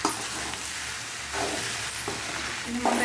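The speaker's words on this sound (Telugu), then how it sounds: "ఇలా బాగా మిక్స్ చేసుకోవాలన్నమాట." A hand mixes rice with curry and chutney, giving soft, wet squishing and smearing sounds that come in short repeated pushes close by, with a faint steady background hiss.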